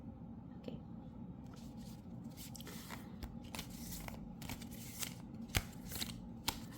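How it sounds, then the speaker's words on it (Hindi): Tarot cards being shuffled by hand up close, a run of soft riffling flutters and quick snaps with a few sharper clicks, quiet and steady throughout. "let me shuffle the cards first"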